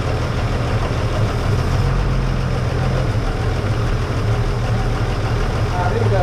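A 1931 Oldsmobile F31 barn-find engine runs just after its first start, a loud, close, rough low-pitched idle with a steady pulsing chug that continues unbroken.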